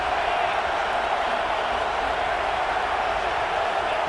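A stadium crowd at a football game makes a dense, sustained roar that fills the whole stretch without letting up, heard from within the stands.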